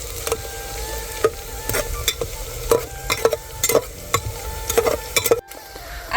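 Green chillies slit lengthwise and red chillies sautéed with onion in a pan, a steady sizzle broken by repeated scraping stirs of the spatula, close and fairly loud, with no talking.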